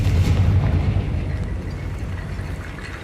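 A Confringo fire spell blast in the Hogwarts Legacy video game, a loud booming explosion with deep low rumble that hits at the start and decays slowly into a sustained roar.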